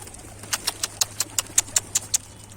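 Tumbler pigeons flying overhead, a quick run of about a dozen crisp wing claps in a steady rhythm, close and moderately loud.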